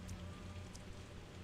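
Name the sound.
rain in video game Pathologic 2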